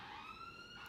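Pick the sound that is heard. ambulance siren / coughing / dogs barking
ambulance siren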